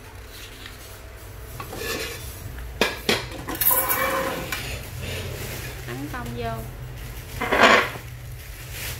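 A double-bottomed metal pot being handled, giving a few clanks and scrapes, with one louder knock near the end, while a person talks throughout.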